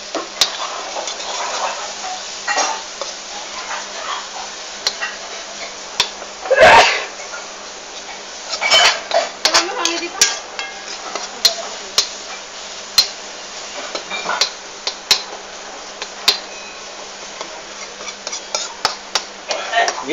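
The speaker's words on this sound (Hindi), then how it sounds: "अब इसको हिलाइएगा आप, जलने ना पाए इसको, जरा तेजी से हिलाइएगा" Shahi paneer gravy with tomatoes and a pinch of cumin stirred briskly in a pan, a spoon scraping and clicking against the metal in quick irregular strokes over a faint, steady sizzle, with one louder clatter partway through.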